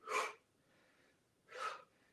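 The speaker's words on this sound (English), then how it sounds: "So keep breathing." Two forceful, breathy exhalations about a second and a half apart during a lunchtime fitness workout round, close and fairly quiet, with faint breathing between them.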